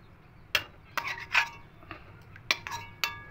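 Boiled pointed gourds lifted out of a pot on a gas stove, heard as a sparse series of close metallic clinks and taps of utensil against pot with quiet pauses between.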